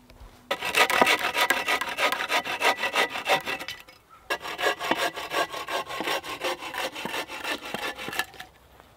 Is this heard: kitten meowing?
no